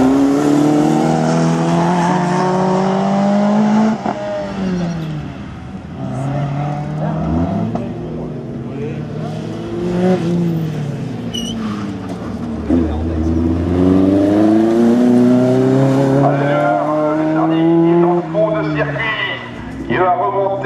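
A slalom race car at the 2017 Neufbourg slalom runs along the track, its engine rising and falling steadily through repeated revs for about twenty seconds while a commentator talks over it.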